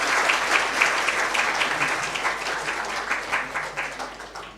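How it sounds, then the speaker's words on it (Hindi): Warm applause from an audience at a Brahma Kumaris World Environment Day gathering, many hands clapping in a steady, lively wash that gradually softens toward the end. "बहुत ज़ोरदार तालियां फिर से हमारे"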